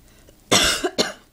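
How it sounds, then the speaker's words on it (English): Two sharp coughs close to the microphone, one after another, in an otherwise quiet room. "Sorry for the coughing."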